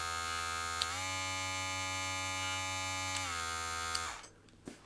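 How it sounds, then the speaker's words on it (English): A BESTBOMG professional cordless hair clipper hums with a steady, close-up motor buzz, its pitch shifting slightly as the speed changes between medium and high settings, then cutting off near the end. "when you press to the high, the motor is going to be a little bit noisy"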